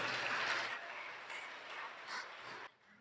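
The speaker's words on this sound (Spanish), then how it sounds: "denle un fuerte aplauso porque Él vive" A church congregation applauds during a sermon: faint, dense clapping that swells early, then carries on more softly before cutting off abruptly near the end.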